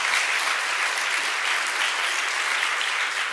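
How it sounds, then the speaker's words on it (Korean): A church congregation at a revival service of a Korean church in Manila bursts into steady, dense applause that fills the room without pause, loud and sustained, with no voices standing out. "이럴 땐 아마 박수 한번 쳐도 괜찮을 것 같은데"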